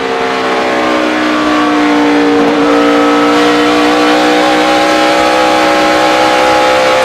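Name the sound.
NASCAR race car engine heard on board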